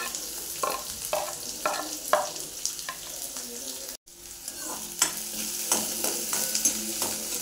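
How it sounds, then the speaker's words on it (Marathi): Onion and green chillies sautéing in hot oil in a pan for a Marathi zunka, with a steady sizzle and repeated stirring scrapes and clatters, close and loud, no talking. "आपण 1 मिनिटभर चांगला परतून घेऊया।"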